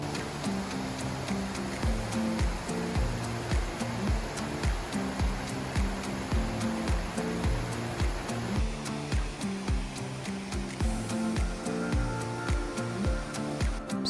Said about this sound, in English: I have some footage of one more waterfall, probably my favorite waterfall